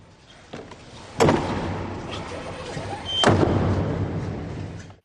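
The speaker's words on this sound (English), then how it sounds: "and the doors are closed" Heavy chapel doors swing shut at the papal conclave, giving two loud thuds about two seconds apart with a lingering echo in a large hall, over crowd murmur and broadcast background.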